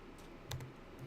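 A few light, faint keyboard keystrokes tapped on a computer keyboard, scattered clicks over quiet room tone during live coding at a terminal.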